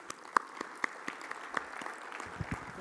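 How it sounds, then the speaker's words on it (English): Applause at an awards breakfast for two university award winners, steady crowd clapping with sharp individual claps standing out, fading toward the end under faint background noise. "Let's just give another round of applause to our two award winners"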